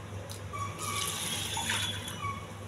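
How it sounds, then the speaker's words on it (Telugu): Water pouring into a pot of soaked red rice, a steady trickling splash with faint high tones as the pot fills, close and quiet. "దీని నిండా వాటర్ పోసుకోవాలి."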